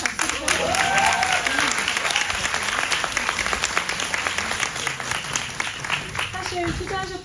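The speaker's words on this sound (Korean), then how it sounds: "박수 부탁드립니다" An audience at a Korean film screening applauds loudly, the clapping sustained and dense for several seconds, with a voice briefly heard beneath it.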